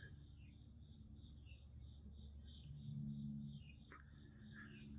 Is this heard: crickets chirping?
yes